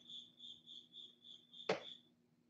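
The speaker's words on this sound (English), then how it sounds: "RC Badger, every time the cricket goes off, say beauty loud and it will shut up" An electronic cricket chirp sounding during a live stream about Tamiya RC trucks, a faint, evenly pulsed high chirping repeating steadily, briefly interrupted by a single sharp knock or clap.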